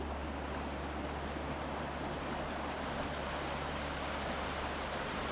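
A stream of water flows steadily outdoors, making a continuous, even rushing wash with no voices.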